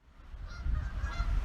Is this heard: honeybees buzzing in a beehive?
no